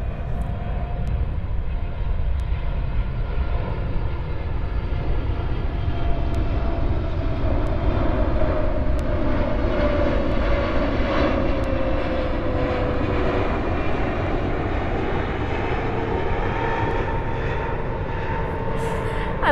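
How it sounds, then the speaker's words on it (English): A propeller airplane flies overhead, a loud, steady engine drone that holds for the whole stretch with slight swells, heard alone without any talk. "I love these planes because they give me a little bit of time to think over these ideas"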